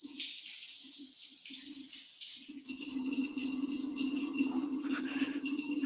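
Water running from a tap while a water filter is rinsed, a steady close splashing flow that grows louder and fuller partway through, with some scrubbing and handling noise over it.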